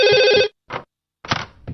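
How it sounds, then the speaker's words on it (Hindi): A telephone in a Doraemon cartoon gives one loud, bright ringing burst, then stops, followed by a few short softer sounds separated by silent gaps. "इस फोन को भी अभी बजना था।"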